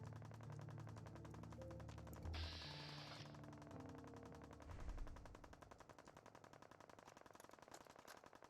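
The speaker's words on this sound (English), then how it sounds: "The gun's still firing." Automatic gunfire from a game weapon in Fallout 4 rattles in rapid repeated bursts, dense and continuous at first, then settling into an evenly spaced stutter of shots, with no speech over it.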